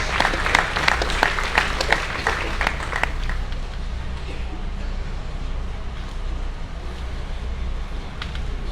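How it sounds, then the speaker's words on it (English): Crowd applause for a lamb judge at a livestock show's grand drive, brisk clapping for about three seconds that fades into low wind-like rumble and background noise. "Let's give a big round of applause for our lamb judge, Brent Jennings."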